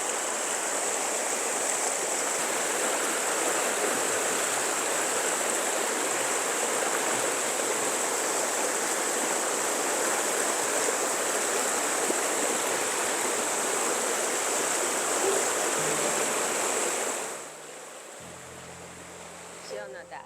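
A cold mountain valley stream rushes loudly and close by in an unbroken wash of water noise, then drops away sharply near the end, where brief voices are heard.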